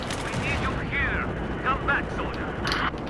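Gunfire from the JS2 gun in the video game Battlefield 4: rapid shots under a steady wash of game noise, with a voice talking over parts of it.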